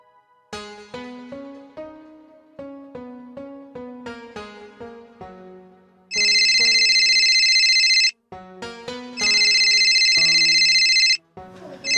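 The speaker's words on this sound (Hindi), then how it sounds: "बिटिया का फोन।" A mobile phone rings with an incoming call: a melodic tune of plucked notes gives way to two long, loud, bright electronic ringing bursts separated by a brief gap.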